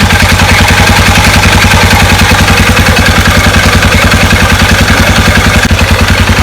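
A Polaris RZR 570 engine runs at a steady idle with the secondary clutch spinning, giving a loud, even mechanical clatter and rapid rhythmic pulsing that holds throughout, close up.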